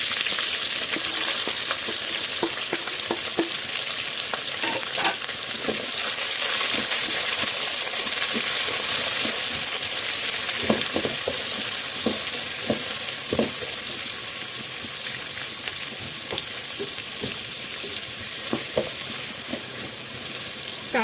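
Thin lengthwise-sliced onion fries in hot oil for a biryani and prawn masala meal, a steady close sizzle with scattered crackles and occasional stirring scrapes.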